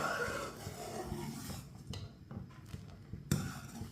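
Spoon stirring milk vermicelli in a cooking pot makes soft scraping and clinking, with irregular light knocks against the metal and one sharper clink near the end.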